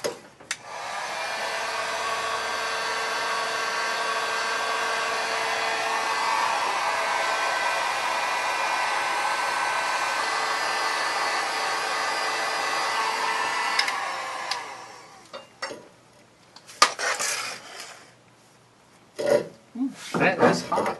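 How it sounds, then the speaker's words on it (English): Steady blowing roar of a heat gun warming a torsion bar part on a 1974 Plymouth Duster during restoration, running close and loud for about fourteen seconds, then switching off into handling clatter and brief voices. "Let's heat gun it."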